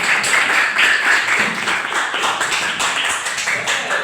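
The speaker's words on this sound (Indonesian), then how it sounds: "Ya dulu, tepuk tangan semuanya." A classroom of students claps hands together in a loose rhythmic pattern, close and lively, at a lesson on the Umayyad dynasty.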